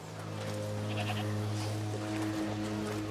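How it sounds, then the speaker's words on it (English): Goats bleat in a village in the A Plague Tale: Requiem video game, a few wavering mid-pitched cries over a steady low hum of game ambience, fairly faint and with no talking. "What's over there? Goats."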